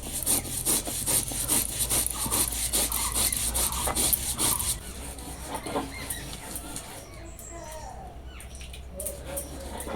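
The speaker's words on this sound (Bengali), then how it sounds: "আর পোস্ত আর সর্ষেটা ভালো করে বেটে নেব।" Poppy seeds and mustard ground by hand on a grinding stone, rhythmic rasping strokes scraping back and forth up close, then quieter scrubbing with faint birds in the background.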